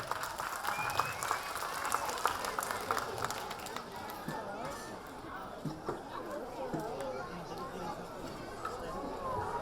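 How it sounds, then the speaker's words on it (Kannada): A crowd at a first-year annual day function at Rajkumar Kalabhavan claps loudly as a dance team takes the stage. Vigorous applause mixes with crowd chatter and eases after a few seconds into scattered claps and murmuring. "ಚಪ್ಪಾಳೆ ಬರಲಿ ಜೋರಾಗಿ"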